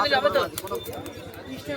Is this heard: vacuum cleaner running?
no